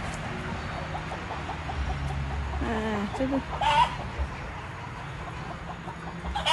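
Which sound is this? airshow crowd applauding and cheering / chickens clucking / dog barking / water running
chickens clucking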